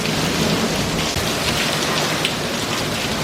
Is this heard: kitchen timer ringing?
no